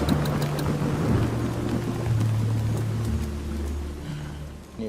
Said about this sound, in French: 6e jour, il continue à pleuvoir.